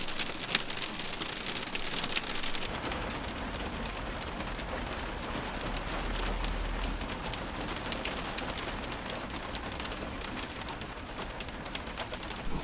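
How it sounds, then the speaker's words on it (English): Hail pelting down outdoors in a dense, steady patter of small hits that fills the scene for several seconds, with birds cooing faintly in the background. "Look at that, that's hail."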